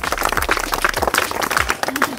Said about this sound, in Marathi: वा शाबास, टाळ्या.